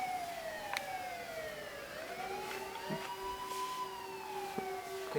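Police sirens wail outside, their rising and falling tones sweeping past at a distance. The sound stays faint but steady, with no talking over it.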